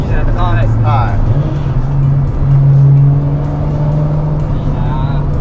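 Toyota Supra JZA80 with a 2JZ engine and TO4Z full turbo kit, around 650 horsepower, droning at about 3000 rpm with a boomy, resonant in-cabin hum, loud and steady, with people talking over it.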